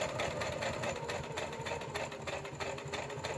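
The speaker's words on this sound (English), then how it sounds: "I'm using my 1/4 inch foot, but you're going to sew a little bit past where the raw edge is" A sewing machine with a quarter-inch foot runs continuously up close, a rapid steady mechanical chatter of stitching with no pauses, doing a short back stitch at a raw fabric edge.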